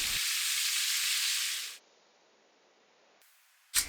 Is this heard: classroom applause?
no